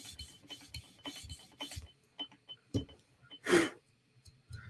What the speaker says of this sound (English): let's see if we can get it out with the 400 grit stone